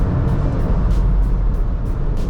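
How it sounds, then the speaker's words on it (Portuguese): A Citroën C3 Aircross braking hard from 130 km/h, heard from inside the cabin as a loud, steady low road and tyre rumble with rushing wind noise, no voices over it. "Tô aqui passando de 130 por hora, vou frear agora."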